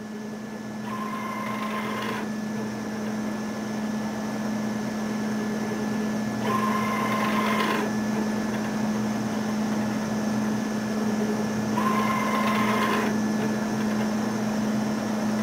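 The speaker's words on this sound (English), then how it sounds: "And now it will mark the second row." A JETEC Orion 4180 ink jet marking system prints a second row, giving three short mechanical bursts at regular intervals over a steady motor hum, with no talk.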